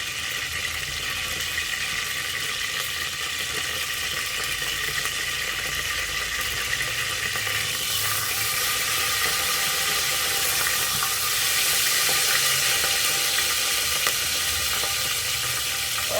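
Whole spices including crushed cardamom, torn bay leaves, cinnamon and cloves frying in hot oil in a pan for chicken bhuna, a steady bright sizzle that swells slightly in the second half.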